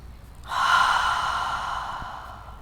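A strong breath pushed out during a gentle movement practice, rising sharply into a long airy exhale that gradually tails off, close and alone with no talking.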